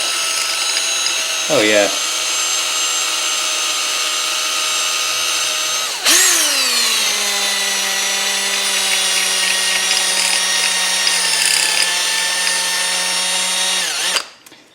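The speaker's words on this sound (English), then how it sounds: "I thought maybe this soft wire brush on the end of a drill might help." A power drill fitted with a soft wire brush whines steadily at high speed cleaning a metal generator bowl, starting briefly, then running loud and continuous before stopping, with a short voice comment.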